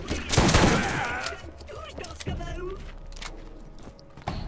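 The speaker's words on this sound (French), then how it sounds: "rapidement le fusil à pompe de Sledge, ce que ça donne" Sledge's shotgun from the video game Borderlands firing at a wall, one loud close blast with ringing echo followed by mechanical clicks and a later sharp report, with someone talking over it.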